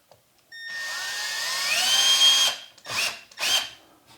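A power drill drives a screw to tighten a kitchen cabinet door during a remodel: one long whirring run rising in pitch, then two short bursts, close and loud.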